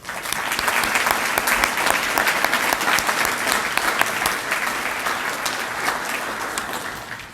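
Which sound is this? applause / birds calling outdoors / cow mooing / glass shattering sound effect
applause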